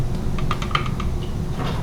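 Several light key clicks tapped in a quick, uneven run on a TRS-80 Color Computer 2 keyboard over a steady low hum, moderately close.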